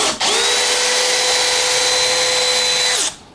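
A DeWalt DCD805 cordless impact drill (90 Nm) drives a large screw into hardwood. Its loud, steady, high motor whine runs unbroken for about three seconds, then stops abruptly, with no voices.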